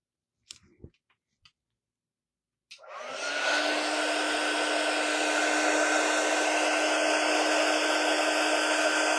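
A hair dryer blows over shimmer craft paint on a Halloween tree craft. A few soft clicks come first, then the dryer switches on and runs loud, steady and close until the end.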